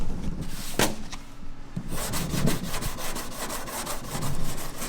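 Sanding primer on an Evo wagon car body, with continuous rhythmic rasping strokes, loud and close, with a brief pause before the strokes resume.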